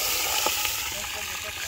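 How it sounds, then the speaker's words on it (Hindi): Water is poured into hot ghee while making jaggery rice in a village kitchen, giving a loud, steady hiss and sizzle with a few crackling pops, close by. "और अभी मैं पानी डाल देती हूँ।"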